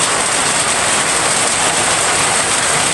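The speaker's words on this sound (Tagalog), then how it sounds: "ang lakas ng ulan mga kabisayo" Heavy rain pours steadily onto a rural bamboo hut in the Philippine countryside, a loud, dense, unbroken hiss with no voices, constant from start to finish.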